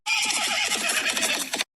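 An Arabian horse neighs in one loud, sustained whinny lasting over a second, its quavering pitch steady and close, heard alone with no talk.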